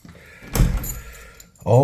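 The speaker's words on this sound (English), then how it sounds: "Always lock the door" An old door is locked with a skeleton key, making a brief close metallic clunk and rattle of key and bolt, followed by a short quiet pause before a voice begins speaking.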